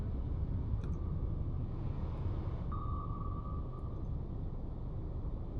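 Active sonar ping in the Cold Waters submarine simulation game: a thin sustained tone rising out of a constant low underwater rumble, faint and distant, with no voices.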